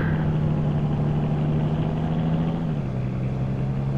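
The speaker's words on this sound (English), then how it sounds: "This truck is very loud." Truck engine idling in a farming video game, a steady loud low drone with a pitch drop near the end, continuous and close, with no talking.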